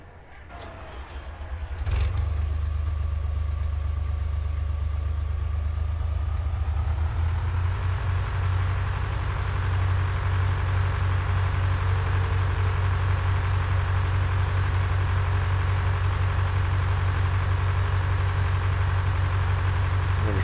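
A tractor engine idles in a farming simulation game, starting up after a quiet moment and then holding a steady, loud, low rumble with no talk.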